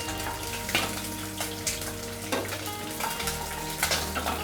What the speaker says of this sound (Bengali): তো আমার মাছগুলো বেশি ভাজবো না